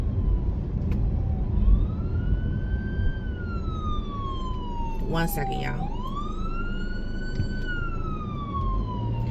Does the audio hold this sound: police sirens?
yes